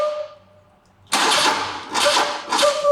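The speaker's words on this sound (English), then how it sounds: "The starter motor is having a hard time turning the engine over." A BMW R90/6 motorcycle starter motor labors to turn the engine over in repeated loud, grinding bursts after a quiet pause, close up with no voices.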